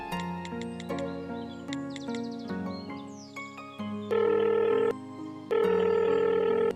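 Telephone dialing and ringing: a string of short keypad tones tapped out in uneven bursts, then two long electronic ring pulses, steady and fairly loud, with no one speaking.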